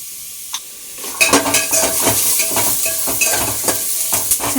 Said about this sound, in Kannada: ನನಗೋಸ್ಕರ ತುಪ್ಪ ಹಾಕಿ ಉರಿತಾ ಇರೋದು